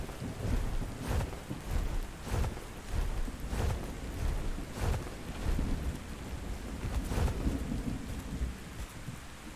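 A video game thunderstorm brings steady heavy rain pattering on surfaces, broken by repeated deep thunder rumbles at regular intervals, loud and close, with no talking.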